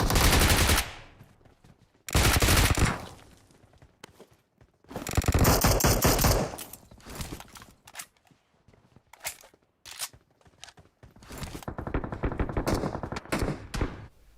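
Several bursts of rapid gunfire in PUBG Mobile, loud automatic volleys separated by quieter gaps with scattered shots and footsteps.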